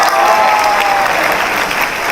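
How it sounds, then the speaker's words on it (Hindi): Loud, sustained applause from an audience at a DXN gathering, a dense wash of clapping that carries on steadily from start to finish. "मेरे हस्बैंड के लिए जोरदार ताली से सम्मान कीजिएगा"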